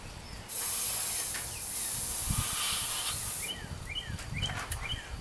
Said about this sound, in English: I'm going to run some lithium grease down it, just for the guide to slide up and down.